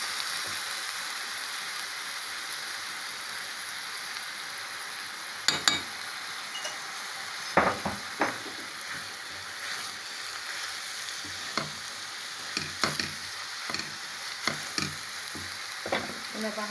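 Meat pie filling spiced with black pepper, nutmeg and seven-spice mix sizzles steadily in a pan, with scraping stirs and clinks of the utensil breaking in now and then over the soft continuous frying.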